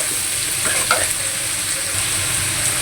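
Turmeric powder is stirred into a simmering egg, potato and carrot curry, a soft steady sizzle with a few light scrapes of the spoon, close and fairly quiet, with no talking.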